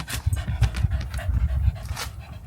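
Dogs pant rapidly and steadily inside a new 2024 Toyota Land Cruiser First Edition, close breathy huffs in a quick rhythm with occasional soft shuffling and no talk.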